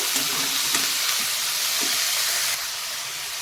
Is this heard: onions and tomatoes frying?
yes